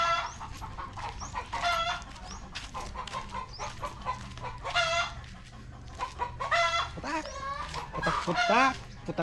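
Chickens cluck repeatedly and loudly nearby in an outdoor setting, with overlapping cackles and a rooster-like call rising toward the end, while a person speaks faintly in the background.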